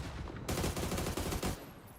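A dense burst of rapid gunfire from a tactical shooter video game in a competitive league match rattles loudly for about a second, framed by quieter in-game ambience.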